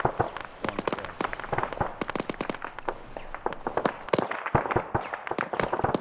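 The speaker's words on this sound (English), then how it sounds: "I don't like this machine gun fire." Machine gun fire in the military shooter game Arma 3: rapid, crackling bursts of shots run almost continuously, loud and dense, with no voices over them.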